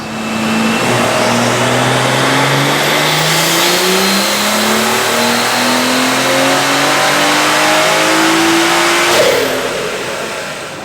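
A BMW B58 engine, street tuned, revs steadily upward under load in one long sustained dyno pull, loud and close, pitch climbing smoothly before easing off near the end.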